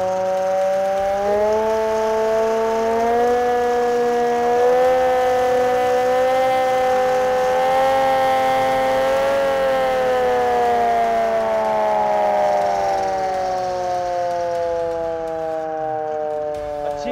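A homemade hand-cranked warning siren wails continuously, its pitch rising steadily and then sliding back down as it winds to a stop.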